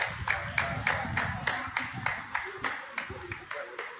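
A small crowd claps in a steady rhythm at an outdoor Pride event, about three claps a second, with talk and street noise underneath.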